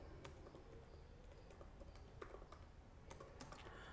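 Quiet, rapid typing on a computer keyboard while writing an SQL query, light irregular key clicks with a few louder taps, heard faintly over low room hiss and without any speech.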